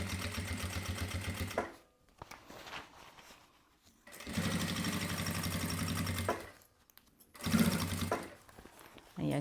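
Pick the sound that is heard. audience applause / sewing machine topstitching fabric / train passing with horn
sewing machine topstitching fabric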